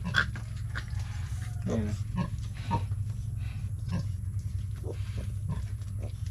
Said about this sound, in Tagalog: Yan yung alaga nating baboy.